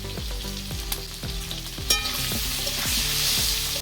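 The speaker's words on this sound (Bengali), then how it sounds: "যে তেলেই মাছটা ভাজলাম ওই তেলে আলু ভাজা হয়ে গেল" Potatoes sizzle loudly in the same oil just used to fry a large black carp, a steady crackling fry with repeated scraping stirs of a utensil against the pan, with no voices.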